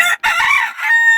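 A rooster crows once, a loud, close, harmonic call with a brief break near the start before the long drawn-out note.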